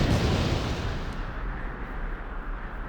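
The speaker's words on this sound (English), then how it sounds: "Another explosion." A deep, rumbling explosion in the video game Blue Archive roars from the start, then fades off through a long, heavy low-end tail.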